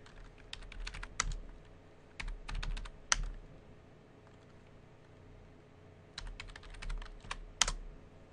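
Login commands are typed on a computer keyboard in several short bursts of quick, crisp key clicks separated by pauses, close and moderately quiet.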